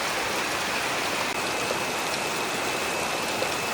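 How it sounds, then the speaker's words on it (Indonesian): Heavy rain pours down outdoors in a dense, steady hiss of drops, even and unbroken throughout, with no voices. "Di luar hujan cukup deras."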